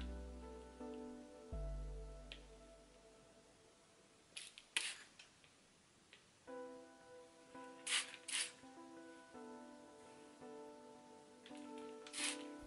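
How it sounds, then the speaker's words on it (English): Short bursts of fine water spray from a spray bottle misting hair roots hiss in a few quick pumps, close by, over a steady musical background, with pauses between the squirts. "So I'm gonna spray the roots of my hair just to moisturize it"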